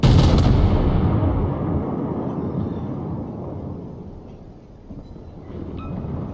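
A Kaiser battleship in the naval video game World of Warships fires a shell with a loud, booming blast that rumbles and decays over several seconds, followed by a fainter swell of in-game noise near the end.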